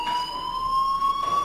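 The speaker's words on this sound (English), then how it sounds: "do you hear that fire alarm?" Fire alarm in the video game Life is Strange, a steady, piercing electronic tone held continuously, loud and close with no pauses.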